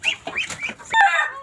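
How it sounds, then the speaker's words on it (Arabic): Rural chickens cluck and squawk close by, with a rooster giving a short, sharp burst of calls near the end; a few quick, uneven calls with no speech. "اسمعوا بقى صوت الديك وهو عمال"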